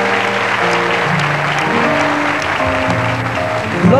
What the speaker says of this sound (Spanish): ¡Cómo te aplauden,